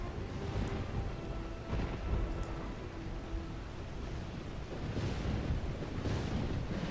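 Thunder in the video game RuneScape: a faint, continuous rolling rumble with windy, surf-like noise and a few slightly stronger swells.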